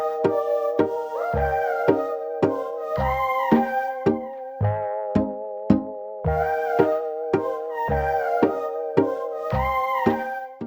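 Synthesized vocal lead from an electronic track, built in Massive, chopped vowel-like notes in a bouncing rhythm over punchy low kick hits, loud and upfront with no talking.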